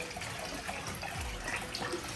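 Water runs steadily into a fish tank being filled for Oscar fish, a continuous splashing, gurgling flow heard up close with no talking.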